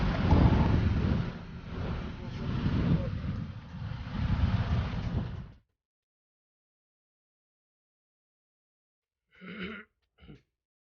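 Ferry crossing to Diwar Island in Goa, heard as a steady rumbling wash of engine and wind noise for about five seconds before cutting to silence, followed by two brief faint bursts.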